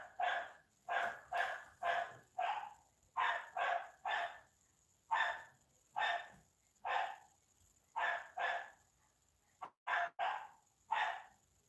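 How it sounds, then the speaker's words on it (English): A dog barks over and over in steady, loud, close bursts of one or two woofs each, with no talking in between. "this dog is driving me fucking nuts with the barking"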